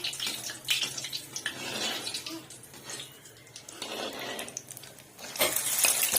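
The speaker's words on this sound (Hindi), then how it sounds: "अब इसको हम ऑयल में डालते हैं।" Potato balls coated in beaten egg are lowered into hot frying oil, giving a steady broadband sizzle and hiss. It swells into a louder, brighter burst near the end as more pieces go in.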